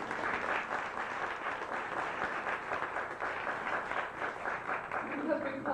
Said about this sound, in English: I'd like us to applaud for her doing that lovely rendition of Miss